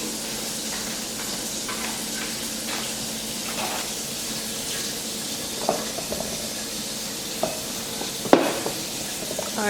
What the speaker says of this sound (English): Now we're just going to give that all a good mix